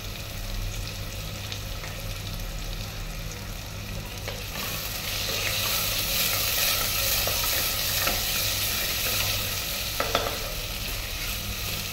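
Soybean curry fries in a pan with a loud, constant sizzle that swells midway, while a spatula stirs and gives a couple of quick scrapes near the end; no voices are heard.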